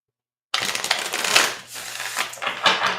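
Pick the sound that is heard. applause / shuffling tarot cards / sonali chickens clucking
shuffling tarot cards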